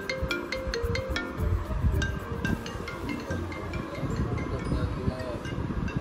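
A phone rings with an incoming call, giving a series of short, bright repeating tone pulses over a steady noisy background with low rumble.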